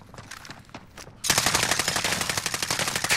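Rapid machine gun fire in a shooter video game bursts in suddenly after a quieter stretch, a loud sustained rattle of closely spaced shots continuing to the end.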